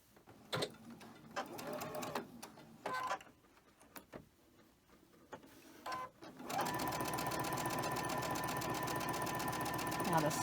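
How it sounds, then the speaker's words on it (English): A sewing machine stitches quilt pieces in a fast, even whir that runs for several seconds near and clear, after a stretch of quiet handling noises and rustling. "Let's go ahead and sew this on."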